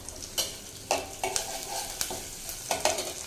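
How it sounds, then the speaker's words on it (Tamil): A large onion sliced lengthwise sautés in a pan with a bunch of curry leaves. A soft, steady sizzle is broken by several sharp spatula scrapes and stirs close by, with no talking. "வெங்காயம் வதங்கட்டும் வெங்காயம் நல்லா வதங்கிடுச்சுங்க"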